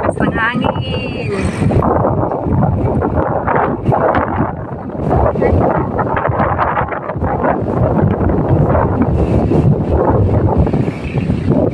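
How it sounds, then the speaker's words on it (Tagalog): Strong wind gusts roar across the microphone at an overlook in Angono, Philippines, a loud, buffeting rumble that swells and dips throughout, with voices talking underneath. "Ang lakas ng hangin."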